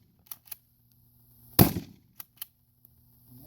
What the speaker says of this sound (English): Now we'll shoot that white thing out there.